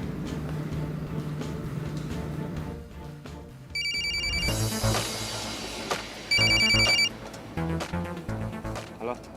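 A telephone rings in bursts of bright trilling tones while a call is placed, heard amid speech and background music in a drama scene.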